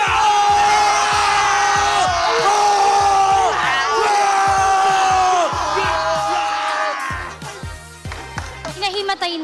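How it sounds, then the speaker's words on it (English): An esports crowd at a Mobile Legends league match cheers and yells loudly for Smart Omega, with whoops and bursts of shouting over a steady roar that thins out near the end. "Isang cheer naman para sa Barangay Smart Omega!"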